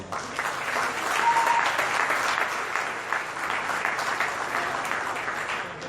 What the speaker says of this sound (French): Je voudrais particulièrement que vous leur fassiez une salve d'applaudissements.